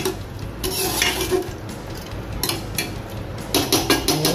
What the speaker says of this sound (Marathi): छानपैकी मिक्स करून घेऊया याला